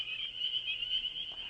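Male frogs call together at a pond edge, a dense, continuous high trilling chorus that holds steady and fairly close with no talk over it.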